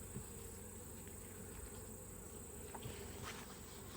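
Honey bees buzz around open beehives as they draw out new comb, a faint, steady, close hum of many wings with no talking.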